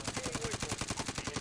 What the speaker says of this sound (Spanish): Acá le están disparando.